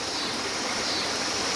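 A small creek about 20 feet across and up to 4 feet deep flows with a constant close rushing wash, with no voices over it.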